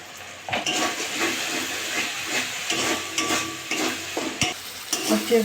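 Ground tomato and chickpea paste fries in hot oil in a pan while being stirred, a steady close sizzle and hiss broken by scraping strokes of the spoon.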